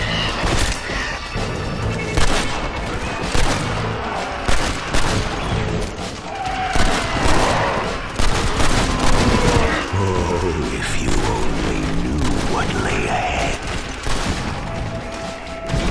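In the multiplayer zombie-survival mode Undead Overrun of Red Dead Redemption, gunfire crackles almost constantly, with rapid overlapping shots and heavy booms at close range, loud and dense throughout.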